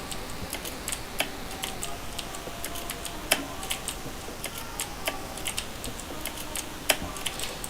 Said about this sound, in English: It's a Razer Black Widow 2013 keyboard